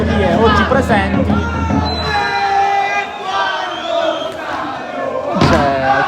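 Rival football supporter groups chant and sing loudly in the stands at an Eccellenza Sicilia match between Kamarat and Don Carlo Misilmeri, a dense, continuous crowd roar with rising voices and a burst of shouting near the end.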